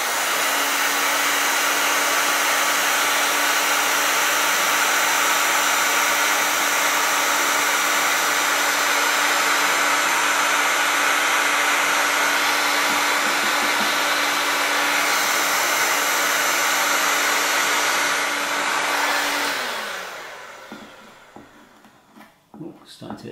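A hot-air tool on its high heat setting blows steadily while stripping the finish from an Epiphone Firebird guitar body, a loud close roaring hiss with a constant hum that winds down near the end.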